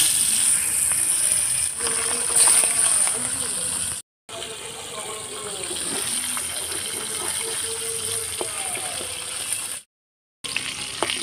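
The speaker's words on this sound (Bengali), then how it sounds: "আর মাছটা ভেজে নেব।" Live Ganges aar fish fries in a pan with a loud, steady hissing sizzle up close, broken by two short silent gaps, with faint voices in the background.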